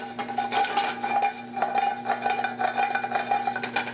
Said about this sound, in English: we're just going to saute the mushrooms for a couple of minutes